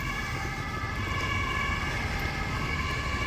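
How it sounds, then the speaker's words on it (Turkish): A wailing ambulance siren sounds steadily over low traffic rumble, holding loud and continuous throughout. "Şimdi bir ambulans geçiyor."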